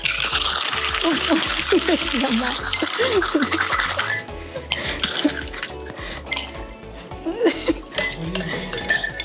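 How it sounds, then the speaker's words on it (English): Ice rattling hard inside a cocktail shaker, a dense, rapid clatter for about four seconds, then lighter clinks and handling noises as the shaking stops. "we're gonna vigorously shake for about 5 seconds again"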